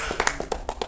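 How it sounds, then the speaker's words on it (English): Brief burst of applause, a handful of uneven claps close by with no voices. "give a round of applause to our master"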